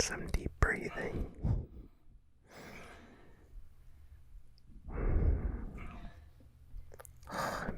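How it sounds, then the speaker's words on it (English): Deep, heavy breathing after a sweaty ASMR workout, close and soft with whispery exhales and gasps in bursts separated by quiet pauses. "Some deep breathing."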